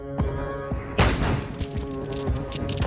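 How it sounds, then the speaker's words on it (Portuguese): Heavily armed criminals attacking a cash transport company set off explosions: loud, distorted booms at about 0.2 and 1 second, followed by a dense, rumbling roar of crackling impacts. "Explosões."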